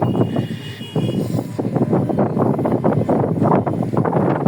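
Cool wind blows steadily outdoors, a broad continuous rush buffeting the microphone without pause.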